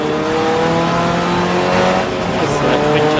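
A twin-turbocharged six-cylinder BMW 2016 race car with an X55 P30 engine roars loudly and continuously at Snetterton, holding a steady, harmonic-rich engine note throughout with slight pitch shifts.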